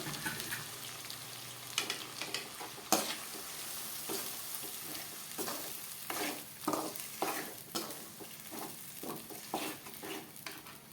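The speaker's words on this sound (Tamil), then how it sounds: "இதை போட்டு நல்லா கிண்டி விட்டுக்கலாம்" Steady scraping and stirring of curry leaf pickle paste in a pan over a constant sizzle, with a sharp clink near the start and repeated rhythmic strokes throughout.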